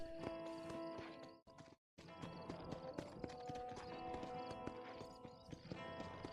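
Horse hooves clip-clop steadily in the video game Red Dead Redemption, a close, rhythmic walking beat that runs almost continuously, broken by one brief silent gap.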